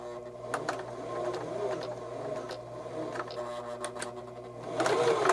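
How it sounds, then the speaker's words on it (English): Sewing machine stitching forward, then back stitching on a shirt garment, a steady close mechanical whir with rhythmic needle clatter and a few brief pauses, continuous with no talking. "I'm going to sew a little bit, and then I'm going to back stitch"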